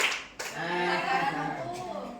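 Classroom of students clapping along to a counted clapping chant, a burst of claps over a steady hum of voices and room noise, brief and moderately loud.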